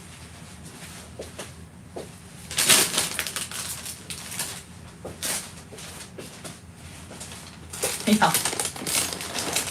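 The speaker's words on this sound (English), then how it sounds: "There's a bag in a bag. Sorry for the crinkling." A plastic bag nested inside another bag crinkles and rustles in several bursts, close and fairly loud, among the handling of cross-stitch samplers; a voice speaks briefly.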